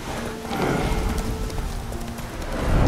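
A horse gallops in The Witcher 3 video game, with a steady rapid clatter of hooves under a dense wash of game sound, loud and continuous over a few seconds.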